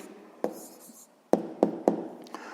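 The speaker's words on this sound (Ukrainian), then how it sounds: "Ну що ж, записуємо тоді відповідь." A pen scratches briefly on paper while an answer to a sixth-grade math exercise is written down, then several sharp taps follow, quiet and close, with no voices.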